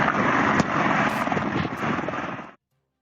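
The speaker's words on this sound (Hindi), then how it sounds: "रनवे पर हेलीकॉप्टर से गश्त की जा रही है" Helicopter patrolling low over the Kabul airport runway, a loud, continuous rotor and engine roar with pulsing texture that cuts off abruptly near the end.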